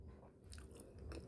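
Soft, close crunching and biting while pansitpasitan salad, a leafy medicinal plant, is chewed. A few faint crisp bites sound over quiet mouth noise.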